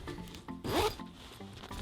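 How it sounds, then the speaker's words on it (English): A small zipper on a Godox SL60W light accessory is pulled open in one quick rasping stroke, close and fairly quiet, with soft handling rubs before and after it. "There's a little zipper here."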